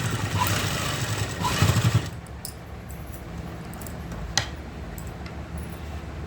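Sewing machine stitching a kurti seam, whirring loudly and steadily for about two seconds before stopping, followed by a few faint clicks and handling sounds in a quiet room.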